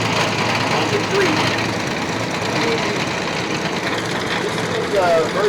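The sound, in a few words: TYM T574 tractor engine running while tilling a garden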